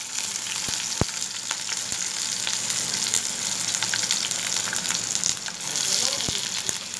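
Garlic and onion hitting hot oil in a pan, a continuous crackling sizzle with a couple of sharp clicks and light stirring, near and steady.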